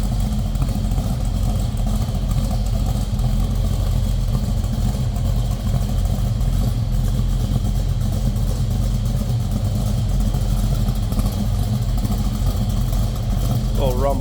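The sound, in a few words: 1968 Chevrolet El Camino SS big block engine running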